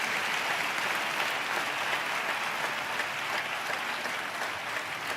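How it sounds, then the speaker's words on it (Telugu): Steady applause from a church congregation fills the space, a dense, even wash of clapping held at constant level throughout with no voices rising above it. "బిడ్డలు చప్పట్లు కొట్టే సైకు స్తోత్రాలు చెప్దాం."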